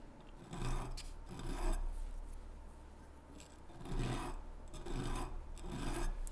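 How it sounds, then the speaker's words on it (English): A metal file rasps in rhythmic strokes across the edge of a homemade metal oboe reed plaque, taking off a burr at an angle, five or six steady passes close up with no talk. "we'll go down the file the same fashion as I did a second ago, but at an angle, and do both sides on both halves, and just take off that burr"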